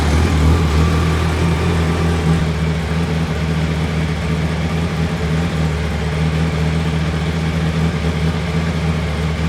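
A motorcycle sits idling close by after starting during a technical inspection, its engine a steady, loud, low rumble with an even mechanical hum that holds without change.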